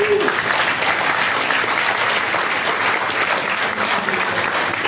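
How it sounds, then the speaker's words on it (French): A crowd at a teachers' union general assembly applauds loudly and steadily for several seconds, a dense wash of clapping with no break. "il faut l'applaudir très fort"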